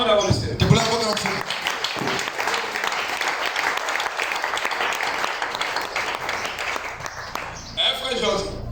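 A church congregation applauding to acclaim the Lord at a Sunday service, steady loud clapping from a crowd lasting several seconds, with voices calling out over it at the start and end.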